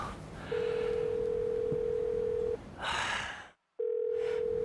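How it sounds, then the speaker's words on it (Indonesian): A telephone call rings out unanswered, heard as a steady electronic ring tone that sounds for about two seconds, then a short gap and a burst of noise, then the tone starting again, with no one picking up. "Di telepon kok nggak bisa dihubungin?"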